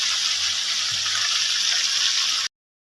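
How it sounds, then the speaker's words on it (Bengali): Water pours steadily into a pan of chicken curry for about two and a half seconds, a close, even rushing splash that stops abruptly. "মাংসটাকে খুব ভালো করে কষিয়ে আমি কিন্তু জল দিয়ে দিয়েছি।"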